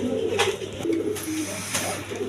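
Racing pigeons cooing close by, soft repeated low throaty coos with brief wing or cage rustles, no talk.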